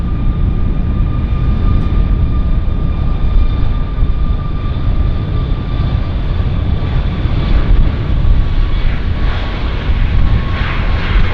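A freighter aircraft arriving at Vancouver airport gives a loud, continuous jet engine roar. The rumble stays dense and steady throughout, with a thin whine riding on top and no talk.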